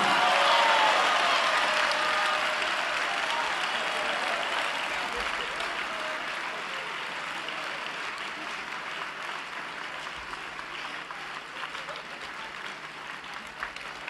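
A large audience claps continuously at a preaching event, dense sustained applause that starts strong and slowly tapers while staying steady for a long stretch.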